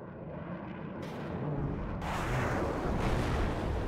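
An F-16 fighter jet attack in the WARNO video game: a loud, rumbling roar of jet noise and explosions builds in stages and stays heavy to the end, with no voices.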